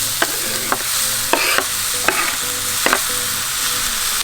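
Tomato pieces hitting hot oil in a frying pan alongside red chilies and garlic, a steady loud sizzle broken by several sharp stirring scrapes at roughly even intervals.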